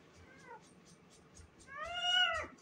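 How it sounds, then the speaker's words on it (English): A cat meows nearby, first a short faint mew and then a longer, louder, wavering cry, over a quiet background with soft ticking. "You guys need to understand this is my cat here"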